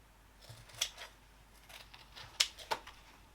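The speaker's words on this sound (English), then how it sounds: "I'm going to clip the corners from the bottom edge" Scissors clipping the corners of fabric during sewing, with a few quiet, crisp snips at irregular intervals close up in a hushed room.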